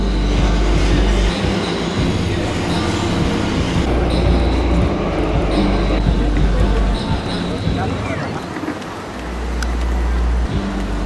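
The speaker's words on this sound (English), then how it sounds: "we're about to go on a train" Train ride in Tokyo with a steady low rumble of rolling railcars and occasional wheel squeal, continuous and fairly loud throughout, with voices murmuring in the background.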